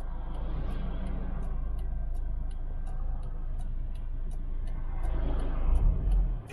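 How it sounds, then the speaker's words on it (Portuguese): Cars and trucks approach from behind on a road, heard from inside a parked Vectra with air suspension as a low, steady rumble swelling near the end, while a rhythmic ticking, like a turn signal, repeats over it. "Tá vindo um monte de carro, mano"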